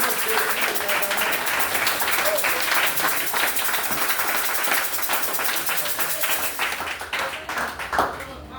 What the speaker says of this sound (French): Acclame Jésus de Nazareth